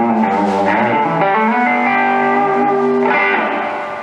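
An electric guitar plays through a Supro amp with reverb, sustained distorted chords ringing loud and close with a washy reverb tail, no voices.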